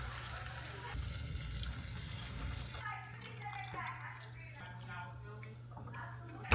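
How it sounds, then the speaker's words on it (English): Three cups of broth pour into a pot for spiced sweet potato soup, a close gurgling, splashing liquid sound over a low steady hum, ending with a brief clunk. "So we're adding in 3 cups of broth."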